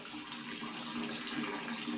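Drinking water runs steadily from a tap at a monastery in Kutaisi, Georgia, a soft, continuous splashing stream heard at modest level without talk.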